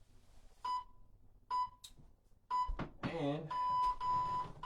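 A workout timer beeps in short repeated electronic tones, then sounds a longer sustained beep, close and clear, with brief talk and breathing mixed in.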